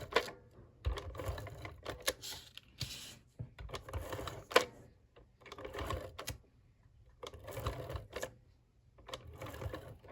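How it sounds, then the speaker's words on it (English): Adhesive tape being pulled off the roll and pressed onto paper craft pieces, in repeated bursts of ripping and crinkling with short pauses between them, close up, with no talking. "I got to put tape all over this thing"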